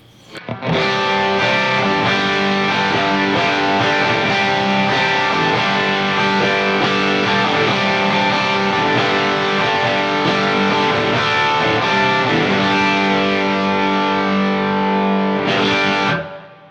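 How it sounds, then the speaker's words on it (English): An electric guitar runs through a Hardwire CM-2 Tube Overdrive pedal with all knobs at noon and the switch on classic, giving loud, continuous driven chords that ring out steadily, with a final strummed hit near the end. "This is the Hardwire CM-2 Tube Overdrive."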